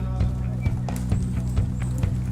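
Horse hooves clip-clop at a stable in a steady walking rhythm, close and clear over a low continuous hum.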